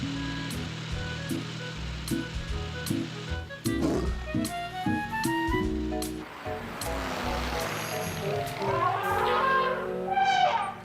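A cartoon lion from Caillou lets out loud, drawn-out roars over playful background music, with shorter growls following.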